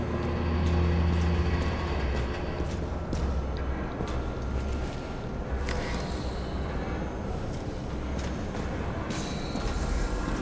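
A train in a video game rolls along at night, a loud steady rumble with rattling carriages and occasional high wheel squeals over the constant noise.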